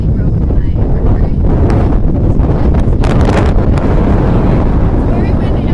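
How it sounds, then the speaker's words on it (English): Strong wind buffets a microphone high up on an Adventureland amusement park ride, a loud, constant roar with gusty rumbles throughout. "It's very windy up here."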